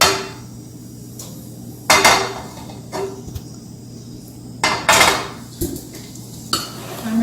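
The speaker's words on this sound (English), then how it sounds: "So now I'm going to start stir frying them separately." Metal utensil clanks and scrapes against a pan during high-heat stir frying of vegetables in a little olive oil, several sharp knocks spaced irregularly over a steady low hum.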